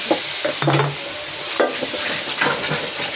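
Spiced water poured into a hot pan of cooking food sizzles close by, with stirring scrapes and clinks of a utensil against the pan in short bursts.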